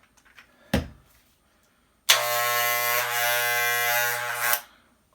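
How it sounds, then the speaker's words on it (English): Hair clippers clogged with hair are switched on close by after a brief knock, giving a loud, strained electric buzz that holds steady for a couple of seconds before cutting off. "I took this clipper apart because you guys probably heard the sound. It was insane."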